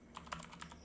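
A computer keyboard clicks under quick typing, several light, close keystrokes in an uneven burst over a faint steady hum.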